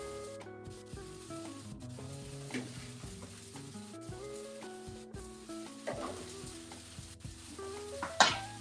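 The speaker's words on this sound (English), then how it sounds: "get some oil on them so they don't stick together, and then just let them fry off and get that crisp" Kale sizzling and frying in oil in a pan, a steady close crackle with occasional stirring scrapes and a brighter spit near the end, with no voices.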